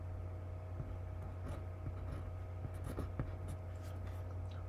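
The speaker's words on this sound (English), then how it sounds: "I'm just doing some shorthand just so you can get the idea." A pen or pencil writes calculus working by hand in shorthand, leaving faint scratchy strokes close to the microphone under a steady electrical hum and hiss. Nobody speaks.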